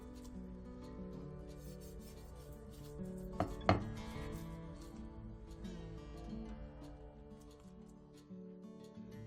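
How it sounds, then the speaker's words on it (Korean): A knife slices through a thick rolled omelette with vegetables, a couple of brief cutting taps against a board near the middle, over a soft, quiet background hum. "완성된 계란말이는 한 김 식혀준 뒤 먹기 좋은 크기로 잘라주세요."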